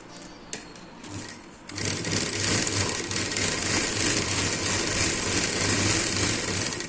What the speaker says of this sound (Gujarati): અને અહીંયા સિલાઈ કરી લેશું।